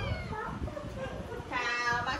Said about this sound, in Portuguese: O gato não para de miar